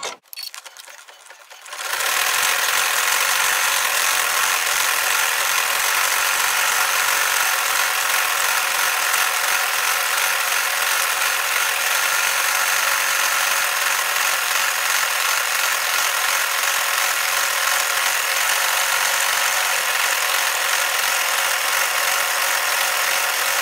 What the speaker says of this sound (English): Next, we're going to stitch the decorative outline.